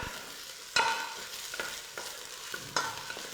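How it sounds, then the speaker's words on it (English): Chopped onions sizzle steadily in hot oil in a pan for a pasta dish, with a few sharp scraping stirs cutting through at uneven intervals, close by and with no talking. "I'll just put my onions and fry them. Just stir them up a bit."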